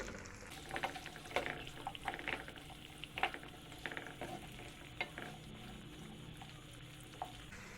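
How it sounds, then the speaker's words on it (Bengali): Grated garlic and ginger frying on a medium flame for chicken manchurian, with a faint, busy sizzle and scattered light stirring taps, quiet and close, no talking. "চুলা মিডিয়াম ফ্লেমে রেখে সবগুলো একসাথে ফ্রাই করে নিচ্ছি।"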